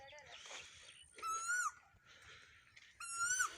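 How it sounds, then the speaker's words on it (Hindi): A bulbul sings in an orchard, giving two bright bursts of whistled, warbling phrases with a pause between them, faint and a little distant over quiet rustling background. "किस तरह प्यारी आवाज़ नाल बुलबुल बोल रही है"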